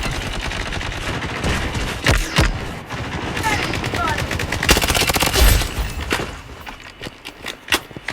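Gunfire from the online shooter Blood Strike crackles in dense, uneven bursts, with sharp shots clustering around the middle and a few isolated cracks near the end, layered under a player's excited talk.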